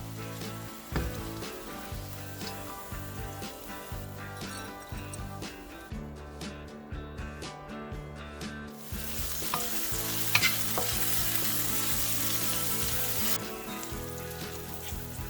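Salt and pepper shrimp stir-fry in a pan with a continuous loud sizzle, regular scraping stirs and light clinks of the utensil, briefly quieter in the middle and then sizzling harder.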